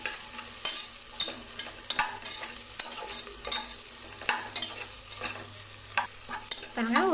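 Carrot and beetroot stirred and sautéed together inside a pressure cooker for dal rice, a continuous bright sizzle broken by repeated sharp spoon scrapes and knocks on the metal, close up and without speech.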